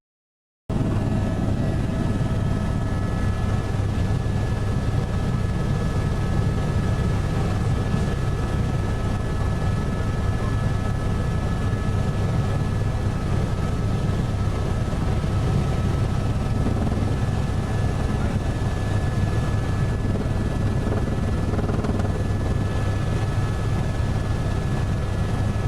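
Helicopter flying over São Paulo, Brazil, heard from inside the cabin: a loud, steady rotor and engine drone that holds constant throughout with no talking.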